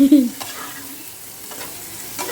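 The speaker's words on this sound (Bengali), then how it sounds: "এই যে ভাজাভুজি চলছে কুমড়ো আলু এগুলো ভাজবো" Pumpkin and potato pieces fry in a wok, giving a steady close sizzle with a few soft stirring scrapes on top.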